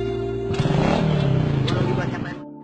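A car pulls away with a rising engine hum that swells and then fades out, heard over a steady background tone.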